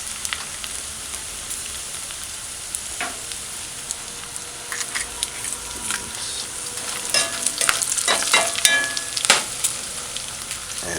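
A pan of thyme sautéing over a low stove flame, giving a steady soft sizzle with stirring scrapes that grow busier and louder toward the end, with no voices.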